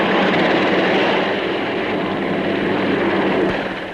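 A large military helicopter, Europe's largest, with two rotors driven by its engines, runs loud and steady at the Farnborough air show, a continuous broadband engine roar that eases slightly toward the end.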